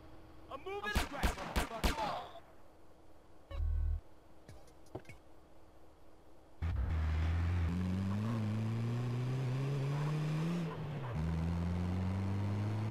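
A car in GTA San Andreas, driven on a mission while under gunfire: a few sharp shots ring out first, then the engine roars in loud and close and rises steadily in pitch as the car accelerates.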